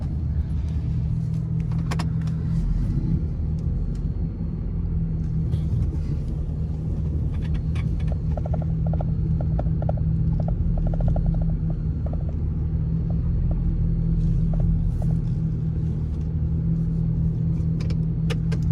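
Pickup truck backing slowly into a spot in an empty parking lot, its engine a steady low idle rumble throughout with faint clicks and rattles over it, close and continuous with no talk.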